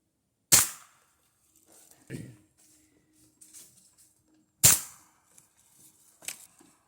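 Two sharp, loud pellet gun shots from a Benjamin Vaporizer firing hollow point pellets, about four seconds apart. Each shot is followed by a faint pellet impact and small handling noises.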